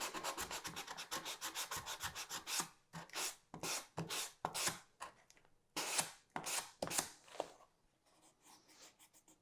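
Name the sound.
sanding EVA foam with 320 grit sandpaper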